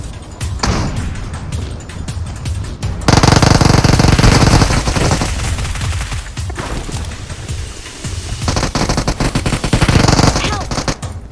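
Rapid bursts of automatic gunfire in PUBG Mobile rattle loudly and repeatedly, with thuds and brief pauses between volleys, close and intense.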